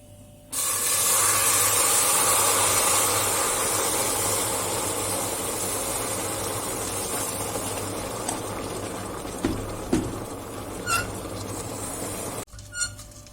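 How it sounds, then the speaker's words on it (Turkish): Boiling water poured onto caramelized sugar in a pan erupts into a loud, sustained hiss and spray of steam that slowly fades, with a few clinks near the end before cutting off. "Şimdi üzerine 3 su bardağı kaynar su ekliyorum."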